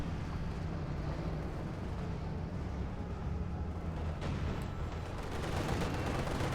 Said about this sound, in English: Panther shoot, bounces off the IS-2's heavy armor. IS-2 shoots back and misses